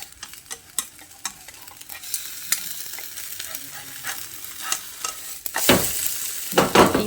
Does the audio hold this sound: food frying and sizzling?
yes